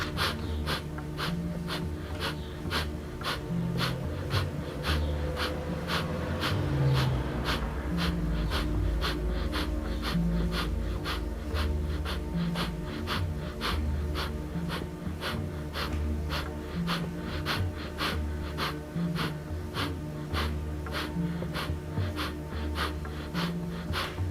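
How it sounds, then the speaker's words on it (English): Breath of fire yoga breathing, rapid forceful rhythmic exhales through the nose repeated evenly and continuously at close range for the whole stretch, with no talk. "still breath of fire, but with the kicking again"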